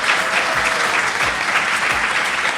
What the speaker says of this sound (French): S'il vous plaît, un applaudissement pour Mathieu Lemoine.